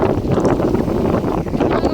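Strong wind buffets the microphone in a steady, loud roar, with gusty rumbling and no voices throughout.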